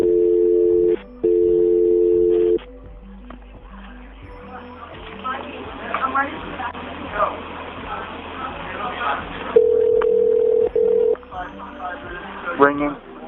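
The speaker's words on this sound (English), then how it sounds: "Ringing" An electronic telephone tone sounds in two steady bursts, then muffled voices and background noise take over before the tone returns briefly near the end.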